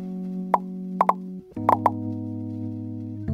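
Bubble people being popped in a video game, a handful of sharp plops in quick pairs and singles standing out over a steady droning game soundtrack.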